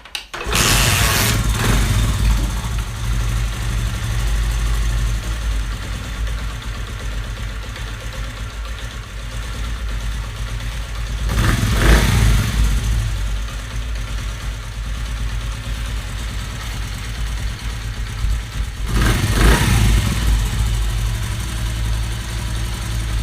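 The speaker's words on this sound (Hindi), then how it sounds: "अब हम बाइक को स्टार्ट करते हैं।" A Honda CD 70 motorcycle's small engine putters steadily at idle for a long stretch after a carburettor slow-jet fix, with a few louder revving surges, close by and without talk.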